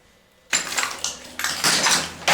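Stacked plates and dishes clatter and clink as they are handled in a storeroom of an abandoned military site, with several loud, close bursts of ceramic rattling and no talking.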